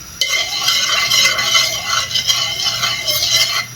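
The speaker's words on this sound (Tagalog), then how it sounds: "Yan, gigisahin ko lang." Chili paste sautéing in a hot pan, a steady close sizzle with stirring scrapes and light utensil clatter throughout.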